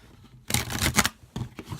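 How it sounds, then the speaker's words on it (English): Tarot cards being shuffled in short, crisp riffling bursts, close and fairly quiet, with brief pauses between bursts. "Shuffling."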